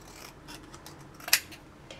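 Scissors trimming a paper gift tag, with a few soft snips and rustles and one sharp, crisp cut standing out near the middle, close and quiet with no talking.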